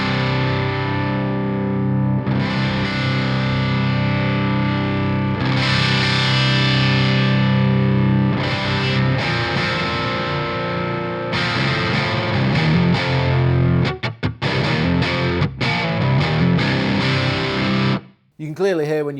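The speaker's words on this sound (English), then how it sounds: "You can clearly hear when you turn the reactance up, it gets a lot sort of, you know, sizzly from that" Guitar run through a Synergy SYN-20 amp module with reactance turned up, giving a sizzly, distorted tone: sustained chords and picked phrases, loud and close, with brief gaps near the end.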